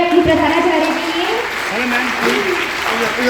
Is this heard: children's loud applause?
yes